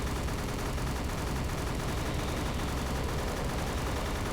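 Rapid, continuous anti-aircraft gunfire from a World War II Pacific video game on Xbox 360, a dense, loud and unbroken stream of shots with no pauses and no voices.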